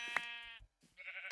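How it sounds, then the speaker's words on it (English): Two bleats from a sheep in a Minecraft-style video game, clear and close, the first a long wavering cry and the second starting after a brief gap. No voices are present. "Oh, sheep. I must destroy sheep."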